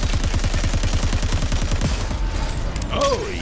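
Rapid gunfire rattles in a fast, steady burst in the video game Crackdown 3 as a drill's threads are shot apart, loud and close, ending with a short mechanical creak and whine.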